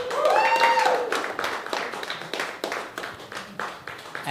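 Scattered audience clapping at a stand-up comedy open mic night, a thin round of individual claps with uneven rhythm, starting under a brief musical tone and a voice, then fading.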